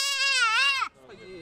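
A single long, wavering goat bleat, loud and close, breaks off abruptly and is followed by a fainter, shorter bleat at a market in Mauritania.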